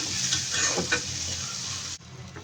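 Chopped ginger and garlic fry in hot oil in a pan, then onion and chopped chili go in, giving a steady close sizzle with stirring scrapes that cuts off sharply near the end.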